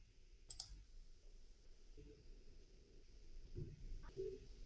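Computer mouse clicks in a quiet room while working in nanotechnology modelling software, a close sharp double click near the start and a few softer clicks later over faint background hum.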